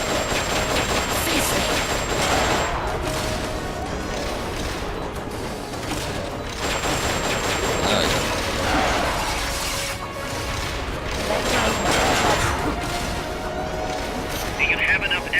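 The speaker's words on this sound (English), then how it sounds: "the only thing I could do is just shoot it more" Gunfire in the video game Metal Gear Solid: Peace Walker: sharp, crackling bursts of shots return roughly every few seconds over a dense, noisy game soundscape with voices in the mix.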